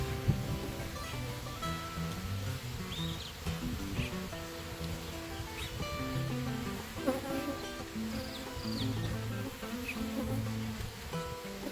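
Bees buzzing around a hive, a dense, steady drone of many insects with individual bees passing close, sustained throughout.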